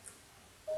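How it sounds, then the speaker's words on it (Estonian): A mobile phone gives a short electronic tone, a single steady beep that starts suddenly near the end after near silence, faint and close. "Vabandust, see oli mu telefon."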